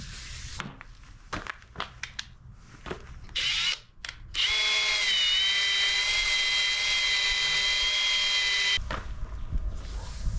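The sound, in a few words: drill spinning sanding pad on headlight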